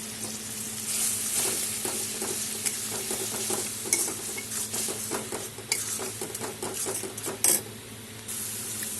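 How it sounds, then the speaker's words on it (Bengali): A spice paste of chilli powder, cumin and turmeric with sugar sizzles in a pan, with steady frying hiss and a spoon scraping and stirring in repeated strokes, close and moderately quiet. "সব এখন আমি একসাথে কষিয়ে নেব।"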